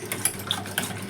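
An electric blender whirs steadily while smashing about half a litre of curd for perugu pachadi, a yogurt chutney, with a few brief louder surges over the close, continuous motor noise.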